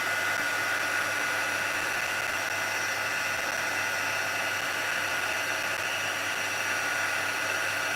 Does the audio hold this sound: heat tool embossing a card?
yes